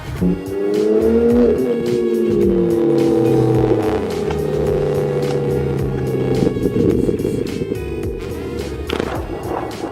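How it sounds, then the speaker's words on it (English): A BMW M2 drives up with a loud, throaty engine that shifts pitch as it revs and slows, close by, with faint tire noise. "Steve pulled up in the M2."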